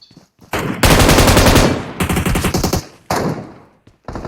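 Loud, close automatic gunfire in the mobile game PUBG Mobile, with long rapid bursts separated by brief pauses.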